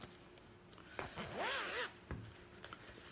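A zipper is pulled open in one quick rasping sweep, preceded and followed by soft handling noises.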